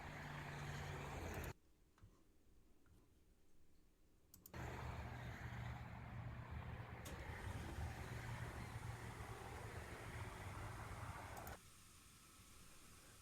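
Steady road traffic rumbles across the I-190 bridge by Riverside Park in Buffalo, a continuous broad wash of tire and engine noise heard from nearby, dropping out briefly before resuming.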